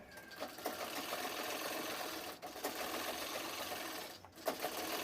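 A sewing machine stitches the seams of a half princess-cut blouse, whirring steadily and close up, with two brief pauses in the run of stitches.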